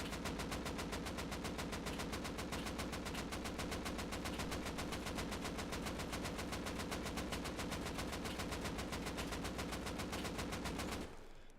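An AK rifle in a video game fires one long uninterrupted burst of about 30 rounds, rapid evenly spaced loud shots that go on for over ten seconds before cutting off abruptly.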